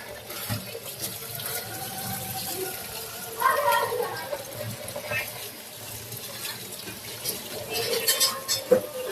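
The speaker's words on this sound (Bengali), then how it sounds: "তো নুডলসটাকে এখন একটু ধুয়ে নিব ঠান্ডা পানি দিয়ে।" Cold tap water runs steadily over noodles being rinsed in a sink, with splashing swells near the middle and end and a voice talking over it.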